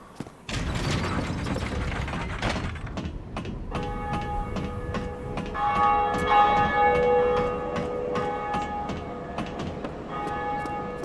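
In Dark Souls Remastered, a lever is pulled to ring the first bell: grinding, ratcheting mechanism noises give way to loud, resonant bell tolls with lingering metallic overtones.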